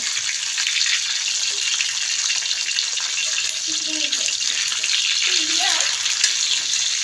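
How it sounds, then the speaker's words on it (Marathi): Food frying slowly in hot oil until crisp and red for a home dinner menu, a steady loud sizzle filling the whole stretch with faint clinks of stirring and no talk. "हळूच फ्राय करायचं"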